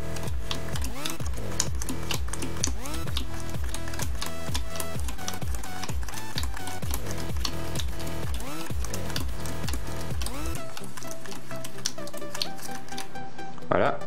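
Playing cards flicked rapidly one after another into two piles, a fast steady patter of soft snaps continuing for over ten seconds, close and alone.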